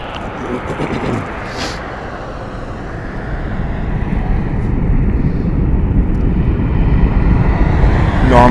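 A Southwest airliner takes off from runway 1 right at Las Vegas Harry Reid International Airport, its distant engine roar building steadily into a loud, sustained rumble.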